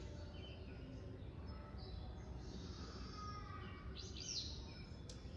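Willow flycatcher song played back, with faint high chirps and a sharper burst of notes near the end over a steady hiss of background noise.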